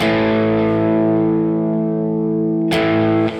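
A sustained, heavily distorted guitar chord through the Overloud TH-U amp simulator rings with a sweeping stereo phaser shimmer, then a second chord strikes near the end and cuts off.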